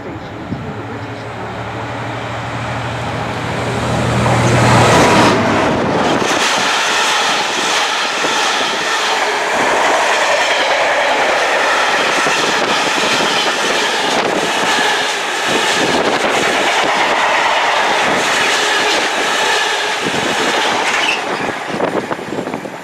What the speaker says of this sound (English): we're going to wait for this freight train to come through